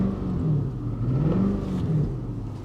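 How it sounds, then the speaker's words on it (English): A cheap salvage Infiniti FX45 engine revs up and settles twice in quick succession, its moderate mid-pitched growl rising and falling with no voices over it. "Give her a little rev."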